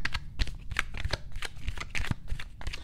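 Tarot cards handled and laid down during a reading, with repeated crisp slaps and shuffling rustles in an irregular rhythm, close and fairly quiet, with no voices.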